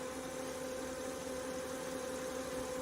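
A car engine idles with a faint, steady high-pitched whir riding over a low hum. The engine is leaking oil and has smoke rising from the front.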